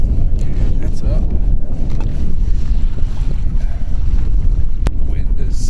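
Wind buffets a boat out on Presque Isle Bay, a steady low roar of gusts rumbling across the microphone with faint water sounds, continuous and loud, with a brief sharp click near the end.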